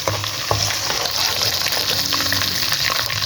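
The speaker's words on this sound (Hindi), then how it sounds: "इसको ज़रा थोड़ा सा फ्राई करती हूँ ताकि अदरक का जो कच्चापन है वो दूर हो जाए" Ginger and green chili paste frying in hot oil, a loud, dense, continuous sizzle close up with a few faint stirring touches and no talk.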